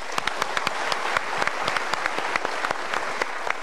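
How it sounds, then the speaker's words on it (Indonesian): A studio audience at the Mario Teguh Golden Ways television talk show claps steadily, a dense wash of many hands with sharper individual claps, filling the whole stretch without speech. "kita berikan tepuk tangan untuk mereka"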